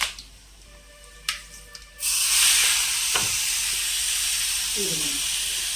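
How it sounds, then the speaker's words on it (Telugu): Curry leaves and mustard seeds fried in hot oil are poured into a bowl of ridge gourd chutney, setting off a sudden loud, sustained hiss and sizzle close by after a few quiet clicks. "కొద్దిగా కరివేపాకు చక్కగా వేగి దీన్ని మనం ఇప్పుడు చట్నీ చేసుకున్న బౌల్లో పోసేసుకున్నామండి."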